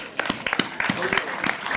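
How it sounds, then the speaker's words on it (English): At a leadership ceremony, an audience applauds award recipients in a short burst of quick, scattered claps close by, mixed with a voice speaking over them. "let's clap for them."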